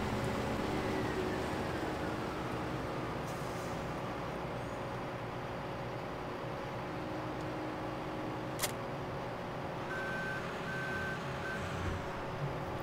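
Truck reverse alarm in Farming Simulator 15, a steady repeating electronic beep over the constant drone of farm machinery, with a brief burst of intermittent higher tones near the end.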